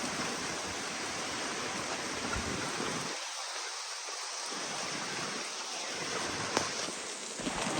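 Heavy rain pours down outdoors in Belgium, a dense, steady hiss of falling water that stays loud and even throughout, with no voices.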